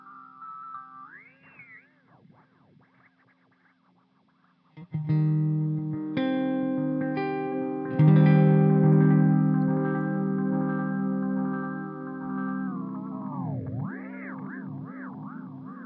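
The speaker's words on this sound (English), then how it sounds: "Let's bring the feedback all the way up and mess with this a little bit." Guitar notes run through a Wampler Metaverse multi-delay pedal with feedback turned all the way up, repeats piling into a swelling, sustained wash before warbling, pitch-bending echoes take over.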